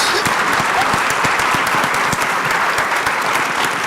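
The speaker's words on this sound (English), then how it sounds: "I'm going to stand and begin the applause for this tremendous panel." A conference audience gives a panel on women's and girls' health and education a dense, even round of applause, many hands clapping steadily throughout at a close, loud level.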